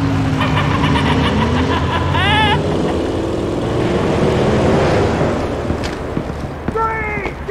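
A car in the Batman: The Enemy Within video game gives off a steady, loud low engine rumble throughout, with brief chirping tones and voices layered over it.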